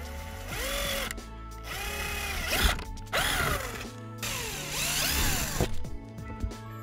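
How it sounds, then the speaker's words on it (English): A power drill boring holes through clear plastic and a plastic ramp piece, in repeated whining bursts that rise and fall in pitch, separated by brief pauses. "we're gonna drill holes onto both this plastic, this clear plastic part, and the ramp part"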